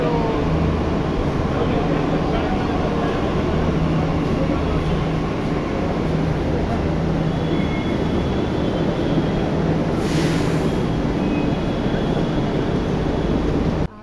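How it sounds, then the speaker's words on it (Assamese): A loud, steady rumble of a metro train rolls on continuously, with a brief burst of hissing air partway through. "আহিবলৈ আৰু 1 মিনিট আছে, আহি গ'ল আমাৰ মেট্ৰ'"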